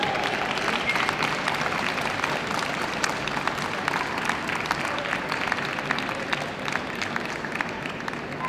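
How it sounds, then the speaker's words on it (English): Sustained audience applause fills a dog show hall after the Gundog Group placings, a dense, steady clatter of many hands with scattered sharper claps standing out, lasting throughout at even loudness. "Big round of applause, ladies and gentlemen"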